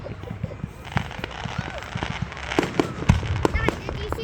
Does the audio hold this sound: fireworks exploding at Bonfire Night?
yes